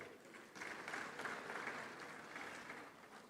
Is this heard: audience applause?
yes